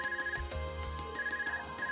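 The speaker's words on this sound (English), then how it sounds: "Is that your Arcus ringing?" Arcus communicator ringing in The Legend of Heroes: Trails of Cold Steel, a steady electronic ringtone pulsing in quick repeated bursts over low game music.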